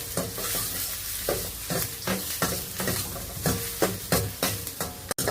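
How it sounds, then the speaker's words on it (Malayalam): Coconut pieces fry in ghee with a continuous soft sizzle, broken by repeated scraping stirs of a spoon against the pan at a roughly even pace, close and moderately quiet, with no voices. "അതിലേക്ക് ആദ്യം വറുത്ത് കോരാൻ പോകുന്നത് ഈ കോക്കനട്ടാണ്"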